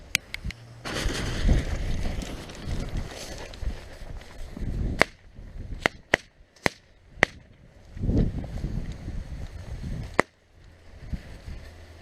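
Firework rockets fired from a launcher outdoors. Sharp whooshing bursts and several crisp cracking pops come through rushing wind noise, with quieter gaps between shots.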